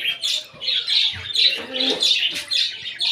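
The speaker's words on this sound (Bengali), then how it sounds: "চলে আসছি নতুন সেটআপ নিয়ে কলোনি পাখিগুলোর।" Caged colony birds, including a myna, squawk and chirp loudly and close by in repeated harsh bursts throughout, with no talk over them.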